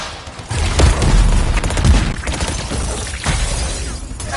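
Heavy gunfire from a very large gun in a PS4 shooter, loud, dense bursts of booming shots with crashing impacts running throughout, no talk.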